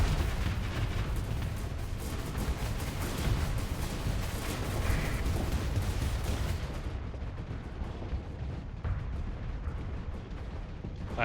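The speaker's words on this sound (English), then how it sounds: "The Fragment Swarm launchers are insane support." Fragment Swarm launchers in the Starsector space combat game fire a dense, continuous crackle of rapid small bursts and booms, with a busy roar that keeps going throughout and grows slightly duller toward the end.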